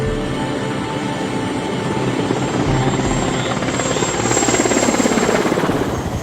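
Helicopter approaching over a swamp, its steady rotor thump growing gradually louder and closer over several seconds, with no voices.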